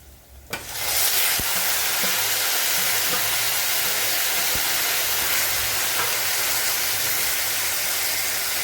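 Chicken dropped into hot oil with garlic and spices, a sudden hiss that swells into a steady, loud sizzle lasting several seconds, with a few faint clicks of stirring.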